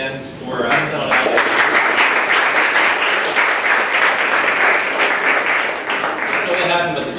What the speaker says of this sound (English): Round of applause again for selling out.